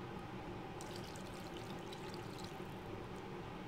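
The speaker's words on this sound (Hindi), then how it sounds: "अब मैं इसमें ऐड करूँगी 1/2 कप पानी" Half a cup of water poured into a mixed mutton mixture for an Arabic-style dish, a steady soft splashing and trickling that runs the whole time at low level with no talk.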